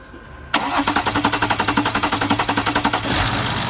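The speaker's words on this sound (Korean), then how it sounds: "자 이제 시동을 걸어 보겠습니다" A BMW F10 535d diesel engine cranks with a rapid rhythmic chugging for about two and a half seconds, then catches and settles into a steady idle, close and loud.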